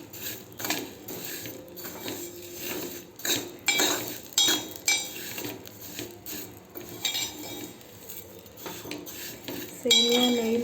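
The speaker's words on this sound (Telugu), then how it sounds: "సేమియాని అయితే మంచిగా వేయించుకోవాలి నెయ్యిలో." Metal spoon scraping and clinking against a pan while stirring vermicelli roasting in ghee, with irregular, repeated light knocks and scrapes at close range over a quiet background.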